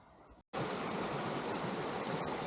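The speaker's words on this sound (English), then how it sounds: "This is the creek here" A creek runs beside a campsite with a loud, steady rushing wash of water that starts abruptly after a brief quieter moment and continues unbroken, with no talking.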